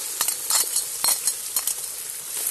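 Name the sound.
liver and onion frying in a cauldron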